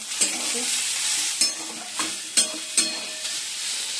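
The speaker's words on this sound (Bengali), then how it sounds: "আলুর দমটা বসিয়ে দিয়েছি, কষানো হচ্ছে" Potato curry sizzles steadily in a hot pan while a spatula scrapes and stirs it in about five sharp, irregular strokes, close by.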